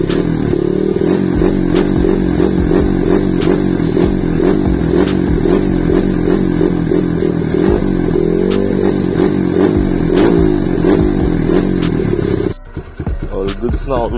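A bored-up 170cc Kawasaki KLX 140RF dirt bike engine, 63 mm bore with stock stroke and valves, idling for break-in: a loud, steady, close-up rattling thrum that runs evenly before cutting out near the end.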